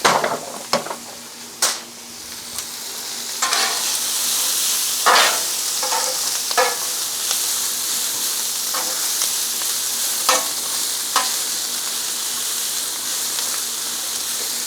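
Onions and peppers sizzle loudly in bacon fat for shrimp and grits, a dense continuous hiss that swells after the vegetables drop in, punctuated by scattered utensil scrapes and taps; no talking.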